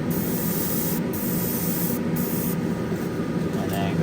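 Steady, even hiss of an airbrush spraying a very light paint coat on an AMT Corvette ZR1 model kit, close up, with a faint high whine over the airflow.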